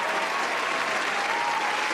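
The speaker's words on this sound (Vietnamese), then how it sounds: "Một tràng vỗ tay cho Kim Thoa." Thick, continuous applause from a studio audience on a Vietnamese television dating show, an even wash of many clapping hands with no breaks.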